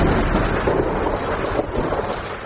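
Heavy rain with rumbling thunder at night, a steady, loud, dense downpour with a low rumble underneath, continuous throughout.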